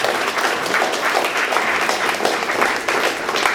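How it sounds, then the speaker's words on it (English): An audience applauds the judges at a hackathon, steady dense clapping filling the room from start to finish, fairly loud with no talk over it. "Can we get one round of applause for the judges?"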